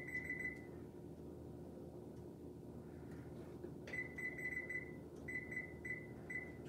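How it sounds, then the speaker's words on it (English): A kitchen timer is set while baking coconut macaroons, giving a string of short, high electronic beeps in two clusters over a low kitchen hum. "I'm gonna set my timer,"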